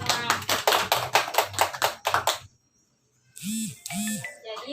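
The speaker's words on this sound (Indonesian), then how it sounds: "Coba beri aplaus kepada kita semua" Children in a primary school classroom clap together in a short run of about ten loud, evenly spaced claps, followed by silence and then a few electronic beeps.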